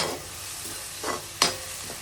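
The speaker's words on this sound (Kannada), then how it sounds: "ಮೆಣಸಿನ್ಕಾಯಿ, ಈರುಳ್ಳಿ ಎಲ್ಲ ಹಾಕಿ ಫ್ರೈ ಮಾಡ್ತಾಯಿದ್ದೀನಿ." Chillies, onion, mustard seeds and dals frying in oil for chitranna, a steady soft sizzle with a couple of spatula scrapes and knocks, close by and without talk.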